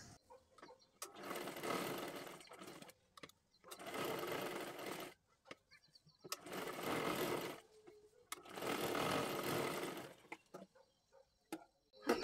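A sewing machine stitches a sleeve lining in four separate bursts of rapid whirring needle action, each about one and a half seconds long, with quiet clicks and fabric handling between the runs.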